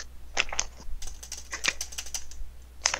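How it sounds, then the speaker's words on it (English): Rapid, uneven keystrokes being mashed on a gaming keyboard during a Terraria session, clacking in bursts at close range over a low steady hum, with no voices. "Who's keyboard spamming?"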